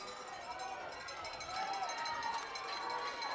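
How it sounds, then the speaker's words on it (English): A rowdy high school football crowd roars steadily in the stands during a late-game third down, a dense continuous cheer that swells slightly midway, with an announcer talking over it. "This crowd is getting rowdy now."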